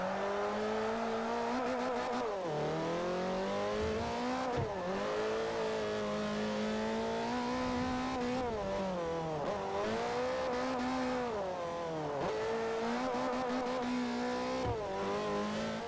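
Toyota MR-S mid-engine race car in Forza Motorsport 4 revs hard through repeated accelerations and gear shifts, engine pitch rising and dropping, with occasional tire squeal and no talking.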